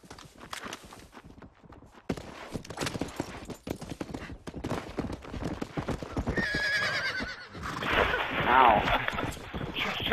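In the Western video game Red Dead Redemption, a horse's hooves clip-clop in a rapid rhythm, followed by a loud, close whinny, with scattered gunfire-like cracks and voices now and then.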